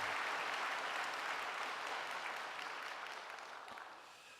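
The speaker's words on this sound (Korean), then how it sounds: "찬양대회에 박수 한번 해주시기 바랍니다" A church congregation applauds the choir at a Sunday service, a dense patter of many hands clapping together, somewhat distant, tapering off toward the end.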